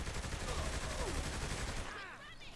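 Rapid gunfire in the video game Saints Row The Third, a dense rattling burst under game sound that cuts off near the end, giving way to quieter noise.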